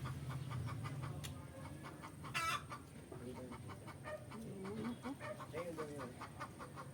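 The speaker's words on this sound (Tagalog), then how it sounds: "Manok dito." Chickens cluck repeatedly at moderate distance amid a busy outdoor background, with a brief louder burst partway through.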